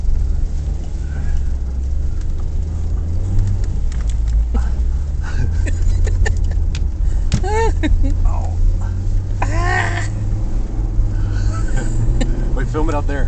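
A car spins donuts in a parking lot, its engine rumbling steadily and loudly throughout with tire squeals rising in sweeping bursts near the middle, while people talk over it.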